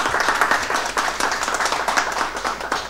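Audience applause at a Folkemødet 2021 panel debate, dense steady clapping from a crowd that carries through the whole stretch without letting up, loud and close.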